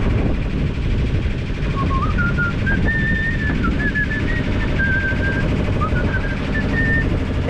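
A person whistles a meandering tune of short and held notes aboard a sailing boat at sea, over loud, constant rumbling noise, like an engine or wind.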